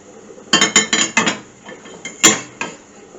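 Cooked fish pieces for a homemade fish pie are moved into a dish with a utensil. A quick run of close clinks and taps against the dish repeats rhythmically, then pauses, followed by a couple more scattered knocks.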